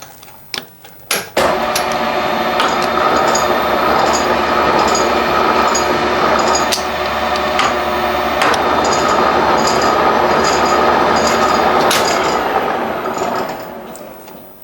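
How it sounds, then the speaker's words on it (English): A metal lathe cuts a thread, making a loud steady mechanical whir with a regular rhythmic ticking from the gears. A few sharp knocks come before it, and the sound winds down at the end. "I can, shall we say, gingerly take up thread cutting where I was."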